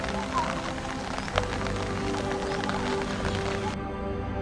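Monsoon rain falls steadily, a soft, constant patter and hiss on surfaces, fairly faint and continuous throughout, with a brief bump partway through.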